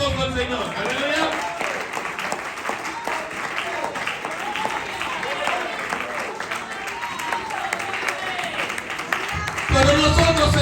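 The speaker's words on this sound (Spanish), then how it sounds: "Dale un aplauso al Señor." A church congregation applauds steadily and fairly loudly throughout, a dense wash of clapping mixed with crowd noise, swelling briefly near the end.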